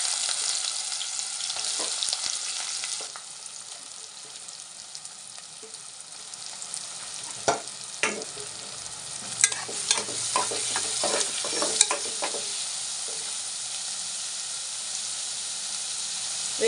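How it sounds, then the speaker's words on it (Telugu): Onion pieces tossed into heated oil for a tamarind-leaf mutton curry, a continuous bright sizzle with scattered sharp pops and spatters, then bursts of clinking as the pan is stirred. "ఆయిల్ వేసేసాను, వేడెక్కింది. ఉల్లిపాయ ముక్కలు వేసుకుందాం."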